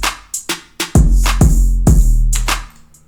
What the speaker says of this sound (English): I also always use a lot of open hi-hats reversed